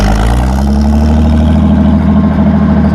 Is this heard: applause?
no